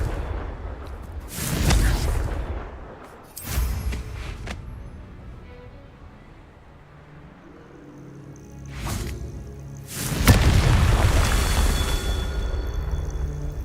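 Confringo spell explosions in the video game Hogwarts Legacy, sounding as heavy booming blasts with long rumbling tails over a low background, several bursts spaced a few seconds apart.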